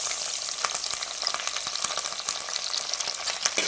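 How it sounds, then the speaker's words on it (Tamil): Shallots, green chillies and curry leaves sizzle steadily in hot oil in a pan for a Tamil fish curry, a dense continuous frying hiss broken by scattered crackles and stirring scrapes, close and alone without talk. "நல்லா வதக்கிக்கலாம். வெங்காயம் நல்லா பொன்னிறமாக வதங்கட்டும்."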